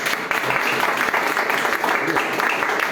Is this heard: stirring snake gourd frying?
no